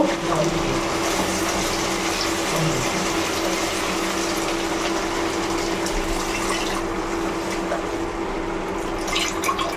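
Water poured into a pan where spices are frying in oil for a chicken curry, a steady continuous rushing splash that holds at an even level throughout with no talking.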